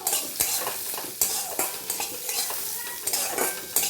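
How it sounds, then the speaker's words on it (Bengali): Poppy seeds, cumin, dried chillies and garlic sizzling in a pan as a spoon stirs them, with repeated sharp scraping knocks against the metal over a continuous fry, close and unaccompanied by talk. "এইভাবে নেড়ে ভেজে নেব।"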